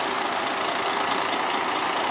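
Halmahera bus engine pulling in at a bus terminal, a steady, loud broadband rumble and hiss of a heavy diesel engine held close by, without talk.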